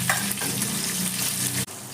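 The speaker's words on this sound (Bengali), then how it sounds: "আবার একবার ভেজে নেব।" Sliced onions frying in oil for sambar dal give a constant close sizzle with light stirring, then the sound cuts off sharply near the end before picking up again faintly.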